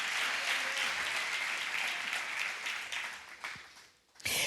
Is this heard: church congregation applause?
yes